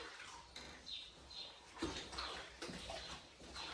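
A smelly dog being washed in a bath, heard as close splashing and sloshing water in uneven bursts, with faint squeaks or whimpers in between and no talk.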